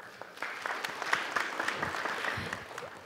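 An audience at a policy debate on the Daegu-Gyeongbuk new airport claps steadily, a dense patter of many hands at moderate volume that holds for a few seconds.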